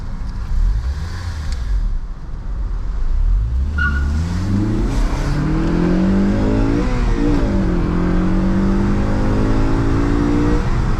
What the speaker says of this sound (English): Yeah. The car is pretty fun.